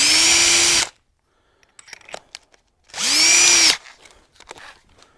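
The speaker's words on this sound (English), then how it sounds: "Remember, hold on to your drill, because as soon as the drill bit bite's going the other side, it's going to want to spin around." A handheld power drill bores a hole to mount an aftermarket tail light on a BSA 441 Victor motorcycle being restored. Two loud, close whining bursts are separated by quieter clatter and handling noise.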